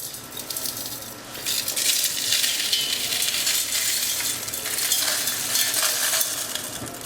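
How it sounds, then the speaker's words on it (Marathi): Cooled, dry-roasted Maharashtrian garam masala spices tipped into a mixer jar, giving a steady close rattling, pattering spill of whole spices against the container, continuous for several seconds with small surges. "हा आपण जो गरम मसाला सगळा छान भाजून घेतला होता तो मस्तपैकी थंड झाला आहे तर आपण हा मिक्सरच्या भांड्यामध्ये काढून घ्यायचा आहे"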